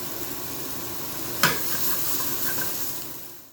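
Onions sizzling and hissing steadily as they caramelize in a hot pan, with a brief scrape or stir partway through, close and continuous.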